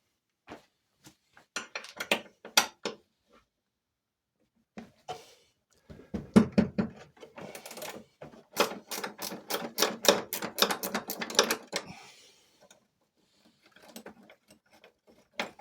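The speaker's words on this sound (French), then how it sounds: "On va y mettre un coup de clé. De 13, j'ai dit." A 13 mm wrench works an engine mount bolt on a Peugeot 205 GTI 1.9, giving a run of quick, sharp metallic ratcheting clicks that speed up in the middle, with scattered taps and pauses around them, close up and without speech.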